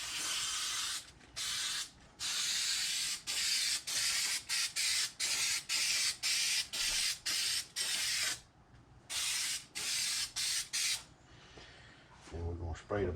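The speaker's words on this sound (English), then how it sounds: "And then I'm just going to spray this stuff on here." Close, loud aerosol spraying onto a stool in a rapid series of short bursts with brief gaps, a hissing rush that stops near the end before a little handling noise.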